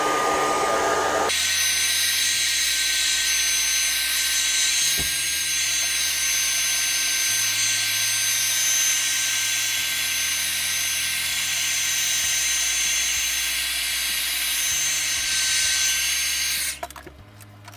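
A hair dryer blowing hot air onto the back of an LG Stylo 4 phone during a screen replacement, a loud continuous whooshing roar with its motor pitch shifting in steps, switched off abruptly near the end.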